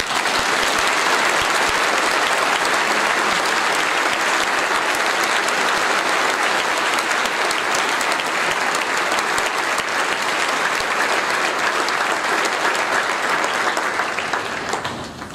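A parish congregation at a 2017 Confirmation Mass applauds the confirmation candidates in a church, a full, even roar of clapping that continues unbroken for about fifteen seconds before easing off at the very end.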